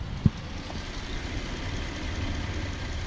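A van engine idling steadily after mechanic work, with a low continuous rumble at a constant level and a single brief knock near the start.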